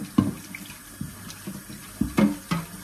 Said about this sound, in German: Und den Deckel muss ich auch nochmal waschen.